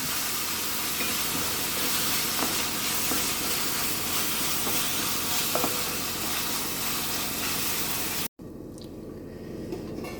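Tomatoes for egg biryani sauté in a pan with salt and masala, giving a dense, continuous sizzle and hiss with occasional soft stirring scrapes, close up, ending in a brief cut to quieter sound.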